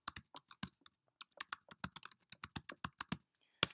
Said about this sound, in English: So now all we need to do is type in our blog title.